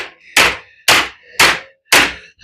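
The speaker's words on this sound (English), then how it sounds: "Now I'm going to take my body hammers and straighten all that up." A body hammer strikes a Ford Mustang body panel being straightened, five sharp metallic whacks at an even rhythm about half a second apart, close and loud with a short ring after each blow.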